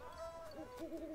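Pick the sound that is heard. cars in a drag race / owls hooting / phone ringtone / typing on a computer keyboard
owls hooting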